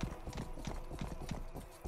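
Horse hooves clip-clopping in the medieval video game Rustler, a quick, regular trot of dull thuds, fairly faint and soft, with no voices over it.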